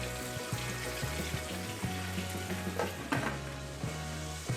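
Pork leg frying for Kapampangan-style pata tim gives a steady, dense sizzle of hot oil throughout, with occasional sharper pops and a low tonal hum underneath.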